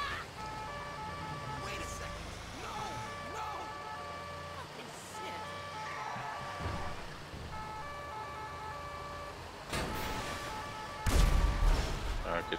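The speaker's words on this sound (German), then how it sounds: "geht schon die erste Bombe hoch" A bomb blast during a subway terrorist attack in GTA 5 erupts as a brief, heavy thump near the end, after a stretch of wailing emergency sirens and scattered game noises.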